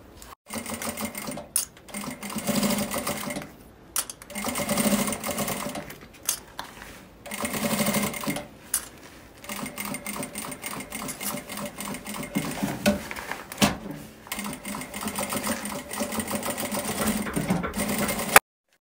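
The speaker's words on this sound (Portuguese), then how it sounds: "a gente vai passar uma costurinha pra poder prender" A sewing machine stitches the lining of a handmade insulated bag in bursts of rapid mechanical whirring, stopping and starting repeatedly with short pauses and small clicks between runs.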